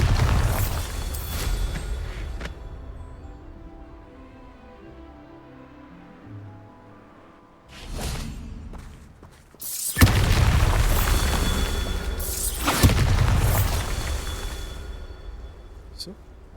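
Bombarda explosion spells go off in Hogwarts Legacy, heavy booming blasts with rumbling tails coming in bursts at the start, in the middle and near the end, separated by quieter game ambience.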